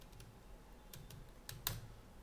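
A few faint, scattered keystrokes on a computer keyboard while typing a search for a WordPress plugin, quiet and sparse with a slightly firmer tap near the end, no voices.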